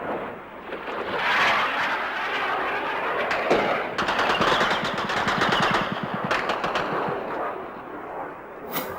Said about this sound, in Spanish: Contestan nuestras baterías antiaéreas y se ve el refulgir de sus disparos en el aire.